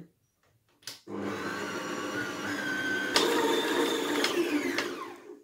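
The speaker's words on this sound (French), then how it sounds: "on va pétrir pendant 10 minutes" An electric stand mixer kneads brioche Nanterre dough with sugar and eggs, its motor starting abruptly and then whirring steadily and loudly, with occasional knocks and clatters of the dough against the bowl.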